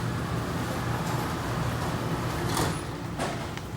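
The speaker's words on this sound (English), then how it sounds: "And then the door will try to come back up" A RollSeal roll-up door that will not close runs with a continuous loud mechanical rumble and hiss, with a couple of brief clatters near the end.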